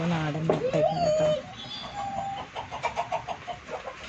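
Country chickens at a rooster-rearing farm give a few clucks and a drawn-out call, fairly close, while a person speaks over and between them.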